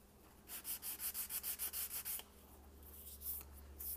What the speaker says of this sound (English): sand off a little bit of the heavy side of that prop with a sanding block